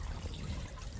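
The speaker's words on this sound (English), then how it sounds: "it's a filter fountain" A quiet garden filter fountain trickles water in a soft, steady, faint flow, heard briefly on its own.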